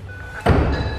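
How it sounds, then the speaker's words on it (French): A door in a building with a lift swings open with a sudden loud thud and rattle, followed by a sustained rush of noise close by. "La porte est ouverte."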